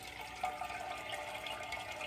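Beer wort draining from hops through a brew bag, heard as a steady, faint trickling and splashing of liquid with no other sounds.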